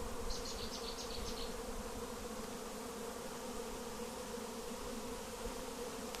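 A honeybee swarm gathering on a beehive gives a dense, steady buzz that fills the scene, close and continuous with no break, with a few faint brief higher tones near the start.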